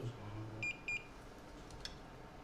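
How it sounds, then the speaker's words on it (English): A multimeter set to continuity gives two short, high electronic beeps in quick succession on a MacBook A1706 logic board at a repair bench, quiet against a low hum of room noise. "I'm gonna make sure my multimeter would beep."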